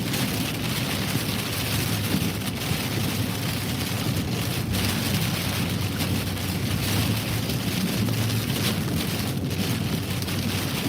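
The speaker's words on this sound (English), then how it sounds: "Here we go with the heavy rain again." Heavy rain drums steadily on a car roof and windshield during a thunderstorm, a loud, constant dense roar from inside the vehicle with no talking.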